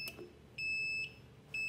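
A 40,000-volt high-voltage power supply for an ion thruster boat emits steady high-pitched electronic beeps, one long tone and then a second starting near the end, moderately loud over a faint background hum.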